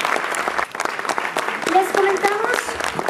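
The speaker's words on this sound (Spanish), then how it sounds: "Un aplauso para el ganador de esta categoría Innovación." An award-ceremony audience applauds the winner of an innovation category, steady crowd clapping under a host's voice and a brief tonal sound in the middle.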